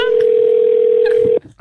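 A steady telephone dial tone hums loud and unbroken for over a second as a call is placed to a pizza shop, then cuts off abruptly with a faint click.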